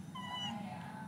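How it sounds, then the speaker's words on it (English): A house cat, interrupted while eating indoors, gives a single short, faint meow over a low, steady room hum. "let me show you my cat"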